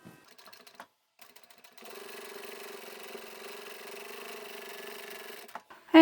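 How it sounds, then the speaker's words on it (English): Sewing machine top stitching the layers of a double zippered boxed fabric pouch, a steady close whirring run of about four seconds after a few short starts and stops. "Let's sew that in place, and then we'll open the layers out"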